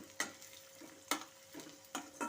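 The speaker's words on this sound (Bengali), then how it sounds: "দিয়ে দিচ্ছি চেরা কাঁচা লঙ্কা দিয়ে সব একসাথে ভালো করে একটু ভাজা ভাজা করে নেব" Garlic and slit green chillies stir-fry in a pan, quiet background sizzle broken by four distinct scraping stir strokes of a spatula at roughly regular intervals, no talking.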